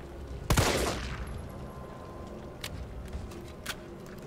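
Handgun shots ring out in the Resident Evil 3 Raccoon City demo: one sharp loud report near the start, then a few fainter clicks and impacts over a quiet game background, no talk.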